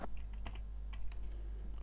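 Quick bursts of computer keyboard keystrokes in a spreadsheet program, a few light clicks in an uneven rhythm, close and alone over a low steady hum.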